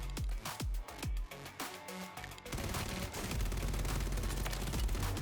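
Rapid gunfire from the video game Call of Duty Warzone, with dense bursts of shots and a continuous loud barrage of automatic fire filling the mix.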